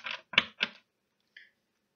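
Tarot cards are shuffled in a few quick riffling bursts, three close crisp flutters followed by a pause and one faint final snap.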